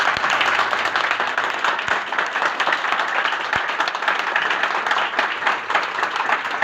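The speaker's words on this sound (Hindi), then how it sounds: "तो मैं चाहूँगा टीम टाइगर और इनके फाउंडर के लिए जोरदार तालियां होनी चाहिए।" Audience at a success-story event claps loudly for a team and its founder, a thick, continuous wave of applause that holds strong for several seconds without speech.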